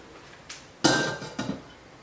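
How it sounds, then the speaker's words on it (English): A metal lid goes onto a cooking pot of simmering shrimp fra diavolo: a faint tap, then a loud clattering clank with a ringing tail and a smaller knock as it settles, close by with no talk. "Let's put the cover on."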